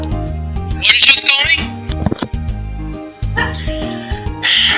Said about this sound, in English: Dogs are getting annoying.